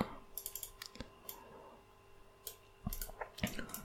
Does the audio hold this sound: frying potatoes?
no